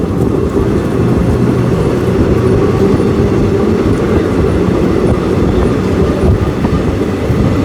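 The 16545 Yeshwantpur–Sindhanur Express, diesel-hauled, runs on its route near Tiptur with a loud, continuous rumble and rattle of carriages on the rails, steady throughout and heard from on board.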